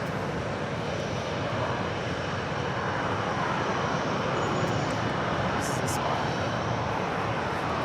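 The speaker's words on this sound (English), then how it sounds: "Next A380 arrival there on the north side. Asiana Airlines flight 202 coming in from Seoul." Asiana Airlines Airbus A380, flight 202 from Seoul, arriving on the north side at Los Angeles International Airport: a loud, steady broadband jet roar fills the whole stretch without letup.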